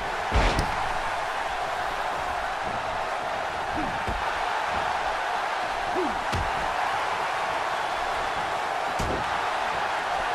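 Impact slams ring out over a constant arena crowd roar during a wrestling match featuring AJ, several sharp thuds spaced out across the stretch, including a big clothesline.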